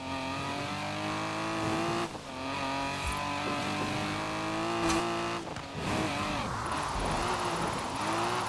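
Car engine in the racing video game Forza Horizon 4, revving hard and steady with gear-shift dips in pitch, loud and close throughout, with brief tire squeal near the end.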